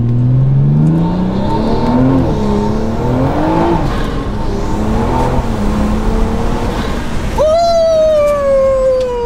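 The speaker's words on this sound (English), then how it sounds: "I'm gonna try to do like a semi pull on this road and just see how it feels" A car fitted with a new turbo accelerates hard on a road, its loud, close engine note climbing steadily in pitch before a sharp, sustained high whine cuts in near the end.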